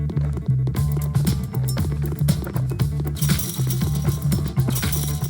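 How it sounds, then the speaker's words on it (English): Video game footstep sound effects repeat in a quick, regular rhythm of thudding steps with clicky transients, close and distinct, mixed over looping background music. "We've got some footsteps."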